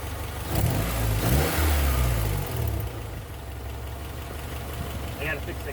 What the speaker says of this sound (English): car's running, driving